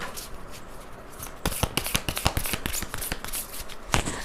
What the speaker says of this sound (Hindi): रुकिए ज़रा, मैं कार्ड्स को थोड़ा सा शफल कर लूँ।